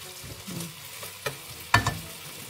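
Garlic fried rice is stirred in a hot pan with a soft sizzle and a few sharp scraping clinks, close and quiet, over about two and a half seconds.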